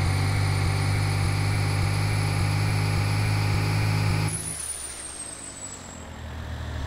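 Turbocharged Duramax diesel truck engine at high output, a loud, steady harmonic roar with a thin high whistle that glides upward before the engine note drops off suddenly partway through.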